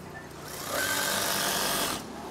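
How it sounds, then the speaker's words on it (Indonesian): A sewing machine stitches curtain fabric in a steady, fast mechanical whir that starts up, runs for about a second and a half and stops, close and loud with no talk. "Kemudian jahit saja."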